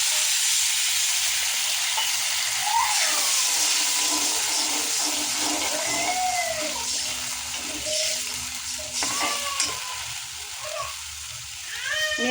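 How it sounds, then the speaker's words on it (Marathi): Water from a glass is poured into a pan of prawn chilli cooking with tomato ketchup and green chilli sauce, giving a steady moderate splashing and sizzling wash that runs throughout without pause. "आता याच्यात आपण 1 ग्लास पाणी ॲड करूया।"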